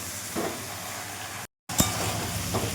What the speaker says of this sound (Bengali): এভাবে নেড়েছে 10 মিনিট ধরে নেড়ে কষতে হবে।